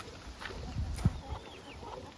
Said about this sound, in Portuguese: Eita, a galinha saiu pra fora, ó.